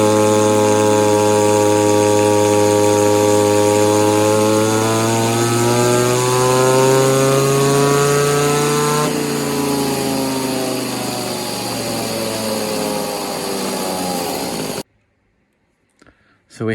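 A V-Modest 2511 chainsaw engine, an Echo 2511 clone with a modified exhaust and advanced timing, screaming at full throttle on a dyno, its high whine climbing steadily in pitch, then cutting off abruptly into near silence.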